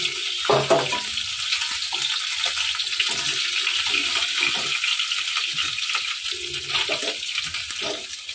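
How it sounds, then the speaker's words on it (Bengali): Khoira fish frying in a pan of oil, a steady, dense sizzle that holds at an even level throughout with no voices. "তো মাছগুলো ভাজা হয়ে গেছে, এবার আমি একে একে তুলে নেব।"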